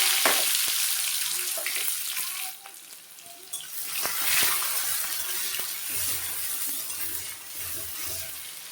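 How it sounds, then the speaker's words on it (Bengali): Onions and tomatoes fry in a pan with cardamom, cinnamon and cloves, a moderate steady sizzle with occasional clinks and scrapes of stirring, quieter in the middle before the crackle picks up again. "পেঁয়াজ ভাজা ভাজা হয়ে গেছে"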